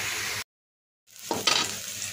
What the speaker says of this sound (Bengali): পেঁয়াজটা বাদামি করে ভেজে নিয়েছি। এবার সিদ্ধ করা সবজিটা ভিতরে দিয়ে দেবো।